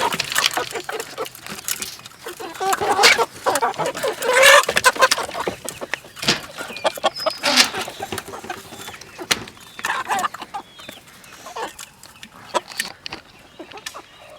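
Chickens cluck and squawk excitedly over feed nearby, a busy flock chattering continuously with scattered scratching and rustling.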